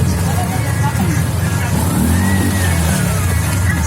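Car engine revving on a flooded street during heavy rain, a loud continuous motor drone that rises in pitch, mixed with wash of water and traffic noise.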